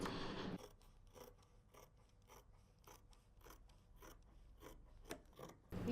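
Scissors cut dress fabric pieces for a pleated dress in a series of close, quiet, evenly paced snips, about a dozen crisp cuts in a row.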